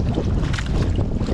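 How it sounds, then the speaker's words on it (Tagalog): Strong northerly wind blows over water, roaring steadily as dense, gusty buffeting close to the microphone with no pauses. "Oh, mulusok na naman ang hangin."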